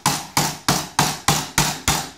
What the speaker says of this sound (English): It's a dead blow hammer. Got the lead shot inside.